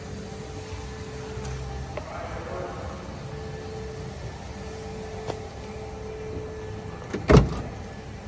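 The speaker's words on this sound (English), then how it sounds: "This is the window motor." Power window motor in a 1967 Camaro runs as a steady low whir beneath faint background hum, with a brief thud near the end, no talking.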